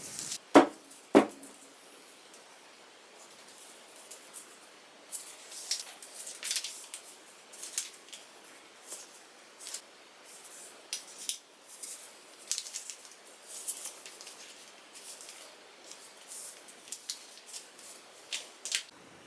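Scissors snip through jersey knit fabric while a medium T-shirt size is cut out, giving repeated short, crisp cuts at close range with small pauses between strokes and no voices.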